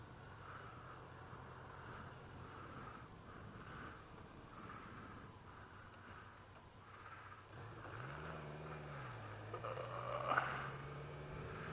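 BMW K1200 LT motorcycle cruising along, its steady engine drone and wind rush continuous and close, with a brief rise in engine pitch near the end.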